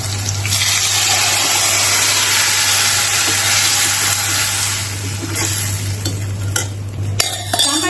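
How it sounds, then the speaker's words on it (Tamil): Tamarind water poured into a pan of frying dry fish gravy makes a loud, steady hiss and bubbling rush that holds for several seconds, then eases, with a few clinks near the end. "நம்ம கரைச்சி வச்சிருக்கிற இந்த புளி கரைச்சலை இதுல சுத்த போறோம்."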